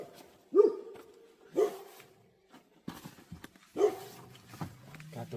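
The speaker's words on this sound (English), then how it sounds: "So the dogs are going crazy. I think there was like a fox in the yard." Dogs bark at a fox in a yard, giving three sharp, fairly close barks a second or two apart, with softer whimpers and rustling in between.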